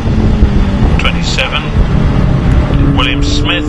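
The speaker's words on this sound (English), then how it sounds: "somebody zooming past on the inside on the brakes" Caterham Supersport race cars passing on the Anglesey circuit, with engine whine rising and fading over steady broadband track noise, under continuous commentary.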